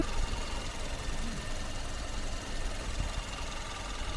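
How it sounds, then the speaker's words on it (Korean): A Hyundai Avante MD with an M16 GDI engine runs at idle with the hood open, giving a steady, even mechanical hum with faint ticking, close and continuous, with no talk. "엔진 소리도 좋고 깨끗하네요"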